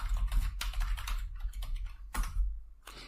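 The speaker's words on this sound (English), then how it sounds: "So we type SMB:/ with the target IP address." Typing on a computer keyboard, quick bursts of key clicks close by with brief pauses between them, heard alone without talk.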